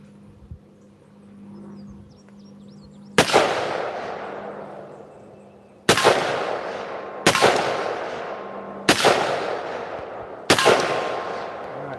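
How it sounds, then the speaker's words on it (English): A SIG Sauer MCX Rattler PCB with a Romeo3 reflex sight fired on an outdoor range, five loud separate shots spaced a second or more apart, each with a sharp crack and a long echoing decay over low background hum. "let's go ahead and throw a round or two down range with it shouldered"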